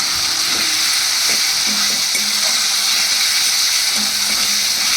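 Chopped tomato hitting a frying masala in a pan, with a loud, steady sizzle and hiss close by and occasional stirring scrapes throughout.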